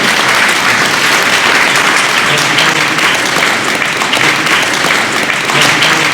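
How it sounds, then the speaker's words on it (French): An audience at an institutional arts and education convention event gives sustained, loud, dense applause throughout. "On peut l'applaudir parce qu'elle fait un travail"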